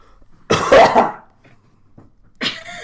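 A voice imitates a cough: one loud, rough burst of coughing, then a pause and a shorter throat-clearing sound, close and alone.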